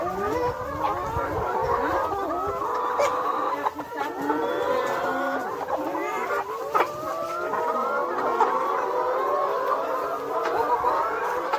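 Backyard laying hens cluck continuously in their coop as they are fed vegetables, a dense, close chorus of overlapping clucks and calls lasting throughout.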